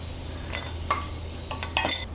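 Raisins roasting in a kadhai over low heat after cashews and almonds, a soft steady sizzle with a few brief scraping stirs, close and alone without talk.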